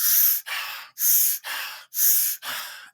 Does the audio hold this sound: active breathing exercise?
yes